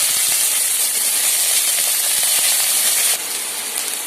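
Dense, continuous sizzling of chopped onions in hot oil for a drumstick fry, a bright hiss with scattered pops that drops slightly in level toward the end.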